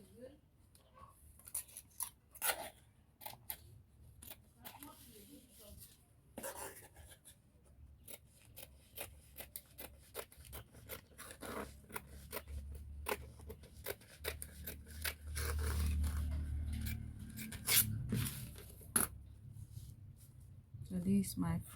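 Scissors cut through Ankara fabric for a senator outfit, giving scattered close snips and crisp rustles that grow denser toward the end, over a low background rumble.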